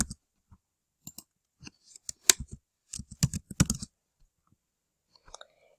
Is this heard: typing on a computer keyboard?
yes